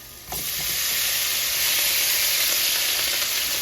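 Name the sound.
florets added to sizzling butter and olive oil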